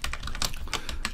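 Quiet, rapid typing on a computer keyboard while writing JavaScript code, a close, irregular run of light key clicks with small pauses, no speech.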